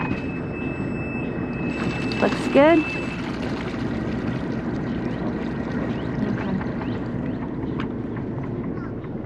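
A cruising yacht's engine runs at dawn on the Great Loop near New Smyrna, Florida, a steady low drone under wind noise, with a brief mechanical whir and a short remark from a person partway through.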